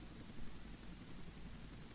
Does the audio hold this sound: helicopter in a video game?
yes